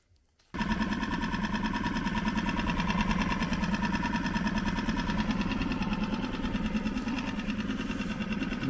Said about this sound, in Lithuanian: varikliukas dirba tyliai